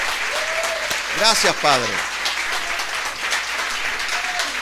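Church congregation applauding during a Spanish-language service, a continuous crowd clapping wash with someone speaking briefly over it near the start.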